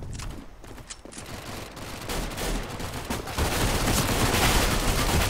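Sustained gunfire in the video game CS:GO, scattered shots at first building into a dense, continuous rattle of rapid fire that grows louder toward the end.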